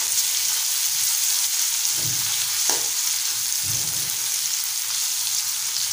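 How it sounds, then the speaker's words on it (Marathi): Onion and curry leaves fry in a pan with a steady bright sizzle, broken by a few brief stirring scrapes, close and alone with no talking. "कढीपत्ता घालूया आणि छान परतून घेऊया।"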